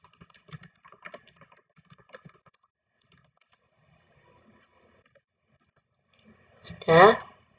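Typing on a computer keyboard: sparse, light key clicks in short bursts over the first few seconds, followed by a near-silent gap and then a loud, tonal burst of sound near the end.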